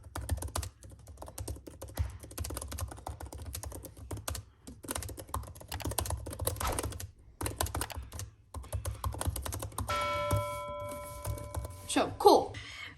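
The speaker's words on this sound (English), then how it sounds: "make you hear the typing experience, like the sound of the keyboard." Typing on the keyboard of a 2020 Space Grey MacBook Air M1, with rapid soft clicks running steadily, a person talking over them, and a brief chime near the end.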